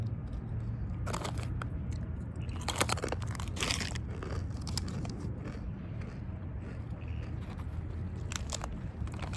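Chips crunched and chewed close up, a steady run of crisp bites and mastication over a low rumbling background, with sharp crackling bursts clustered in the first few seconds.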